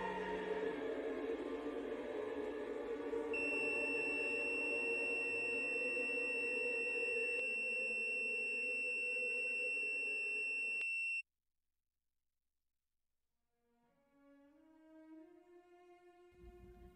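A loud, piercing ring from the 2001: A Space Odyssey soundtrack holds steady over a dense wash of sound, then cuts off abruptly into near silence before faint rising tones return.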